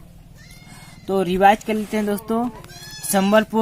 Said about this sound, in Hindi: छोटे छोटे बच्चों की आवाज़ सुनाई दे रही होगी, बकरी के बच्चे हैं वो